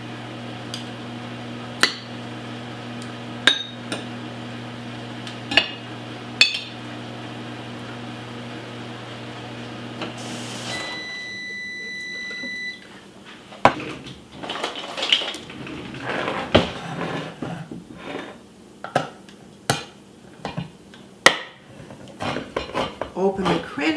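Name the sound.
knife slicing turkey into small pieces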